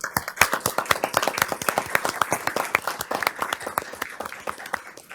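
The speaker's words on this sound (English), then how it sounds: "let's all give them a round of applause." A small group applauding, distinct individual claps in a brisk uneven rhythm, close and clear, gradually thinning toward the end.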